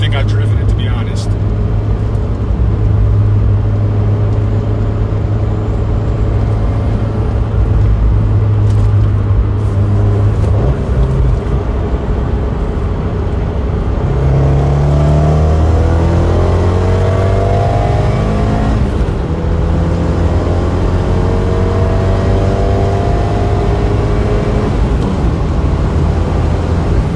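Big-turbo Abarth 124 Spider accelerating hard through the gears, a loud sustained engine roar rising in pitch with shifts around the middle, heard from inside the car.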